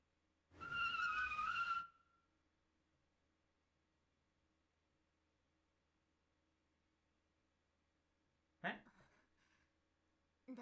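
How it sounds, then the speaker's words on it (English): A car's tires skid toward a character crossing at a red light in the NekoPara visual novel game, a loud screech of about a second, then quiet, with brief voiced sounds near the end. "Stop, Milk. There's a car."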